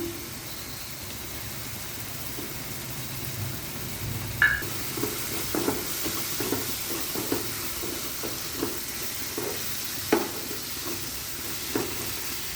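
Prawns frying in a pan for a gravy curry produce a soft, steady sizzle, with spoon knocks and scrapes against the pan that come closer together partway through.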